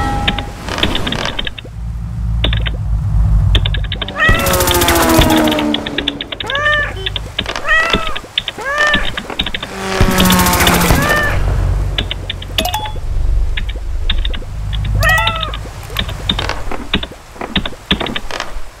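Repeated cartoonish meows from the city cat in the Crossy Road video game come in short bursts over a busy stream of clicky, mechanical game effects, with several clusters of calls spread across the stretch.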